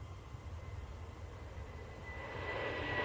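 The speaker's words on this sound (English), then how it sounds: "Lufthansa going off to Munich" Lufthansa City Airbus A320neo departing Manchester, a steady low jet engine rumble that swells and brightens toward the end as the aircraft powers away, moderately distant.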